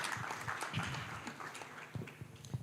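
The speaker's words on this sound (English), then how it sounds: "A big round of applause to Uthman as well." A business summit audience gives a short burst of scattered clapping, distinct hand claps heard at a distance and fairly faint, with no talking over it.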